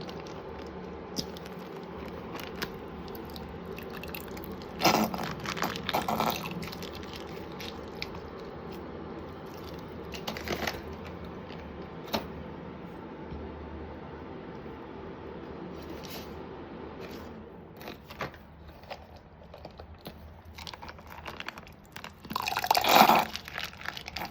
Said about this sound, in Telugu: దీంట్లో నేను 2 పెరుగు ప్యాకెట్లు అయితే వేసుకుంటున్నాను